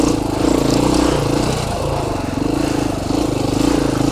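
Dirt bike engine droning through sandy whoops on single track, a steady loud buzzing note that pulses and dips as the throttle rises and falls.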